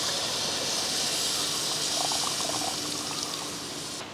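Soaked tamarind extract pours steadily into a hot cooking pan of spiced bitter gourd kuzhambu, giving a continuous hissing splash and sizzle up close, with no talking.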